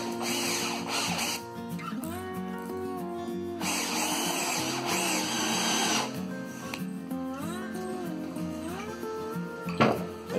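A power drill drives a screw into a sofa foot, whining in sustained bursts that rise and dip in pitch and pause briefly between runs, loud and close.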